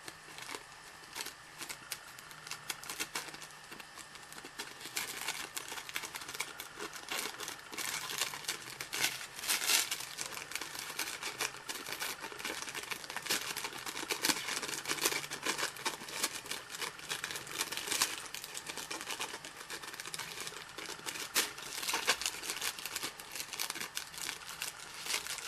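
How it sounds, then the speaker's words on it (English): Excess tissue paper is trimmed from a stamped transfer for a candle, giving a steady, close crinkling and rustling that runs without pause through the whole stretch, with no voices. "Next, you need to trim off the excess tissue paper."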